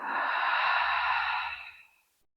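A single long exhale during a guided breathing exercise, a close, airy breath that fades out over about two seconds.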